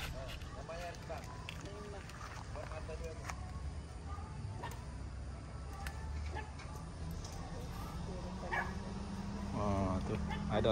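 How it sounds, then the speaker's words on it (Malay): A dog barks and yips a few times at a distance in an old village setting, faint and intermittent under people chatting and general outdoor background noise. "Tengok anjing dia."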